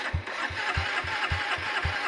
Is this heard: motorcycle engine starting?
yes